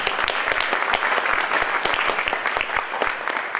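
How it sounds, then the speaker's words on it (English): An audience at a tech talk gives John a warm round of applause: dense, loud clapping from many people, sustained evenly throughout with no speech over it. "let's give John a round of applause one more time"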